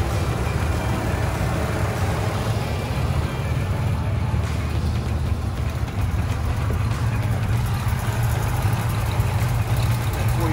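A 1929 Pontiac engine with no coolant idles steadily for the whole stretch, a loud, low, continuous rumble with a constant throb and no pauses.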